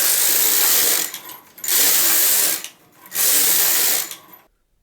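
A knitting machine's carriage is pushed across the needle bed for several rows, giving three long loud whirring, rattling passes separated by brief pauses, with no talk.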